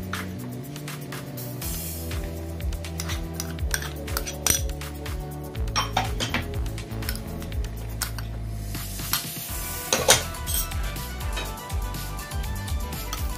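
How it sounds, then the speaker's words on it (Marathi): Chutney ingredients, including salt, fresh grated coconut and roasted gram, stirred together in a bowl with a spoon, giving repeated close clinks and scrapes of metal against the bowl, uneven in rhythm, with no talk. "आता हे सगळं आपण मिक्स करून घेणार आहोत।"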